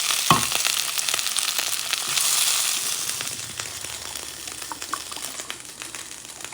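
Potatoes frying in hot oil in a pan, a steady dense sizzle with occasional spatters and stirring scrapes, close and fairly loud throughout, with no talking.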